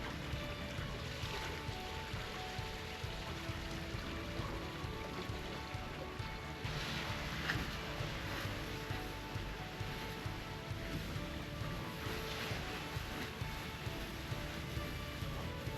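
Steady broadband rush of water streaming past the hull of a sailing yacht under way off Sardinia in a Mistral wind, continuous and fairly loud with wind-like hiss and no voices.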